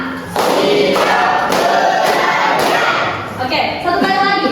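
A school class claps in rhythm on command, with several sharp bursts of group clapping spread across the clip. A teacher's calls and the children's answering shouts sound between the claps.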